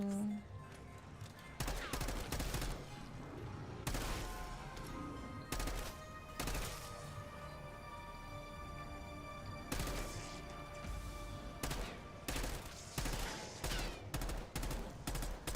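XM4 assault rifle fire in the video game Call of Duty Warzone, with loud repeated bursts of automatic gunfire crackling through a busy game mix across the whole stretch, stopping and starting in short volleys.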